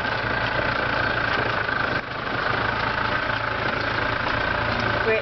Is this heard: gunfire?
no